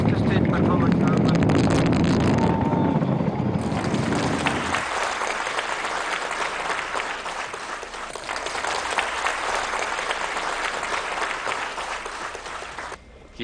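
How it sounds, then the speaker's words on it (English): Loud, continuous roar of an ISRO rocket liftoff for the Chandrayaan 2 launch, a deep rumble for the first few seconds turning to a broad crackling hiss that holds steady throughout. "We have a liftoff. A perfectly normal liftoff."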